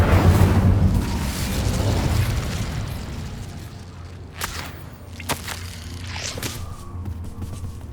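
In Hogwarts Legacy, an Incendio fire spell bursts out with a loud whooshing roar that fades over a few seconds, followed by scattered crackles and smaller pops.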